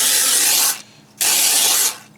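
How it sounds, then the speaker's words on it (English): A Vaper non-aerosol sprayer hisses onto a sheet of cardboard in two loud, close bursts, each about three-quarters of a second long, with a short quiet gap between them. "Now let's try it again with a fresh sheet of cardboard to see what that spray pattern looks like."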